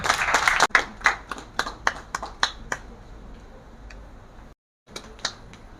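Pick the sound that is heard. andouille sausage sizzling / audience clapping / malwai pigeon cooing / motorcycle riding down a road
audience clapping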